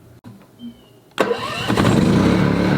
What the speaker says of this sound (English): As soon as I took it off choke, pow! Fired right up.